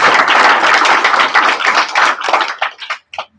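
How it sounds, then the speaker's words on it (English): A graduation ceremony audience at QSI Astana in 2019 applauding teachers, friends and family, loud sustained clapping from a large crowd that thins out into a few scattered claps at the end. "Please join me in a round of applause for the teachers, friends, and family who supported you"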